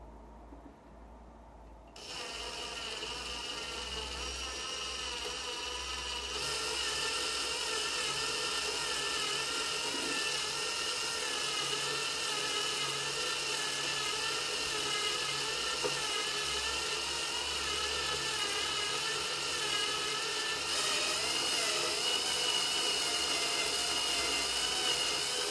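An electric drill runs steadily while drilling out a broken screw in an elliptical trainer, a continuous high mechanical whine with grinding that starts after a brief quiet moment and holds loud and close throughout.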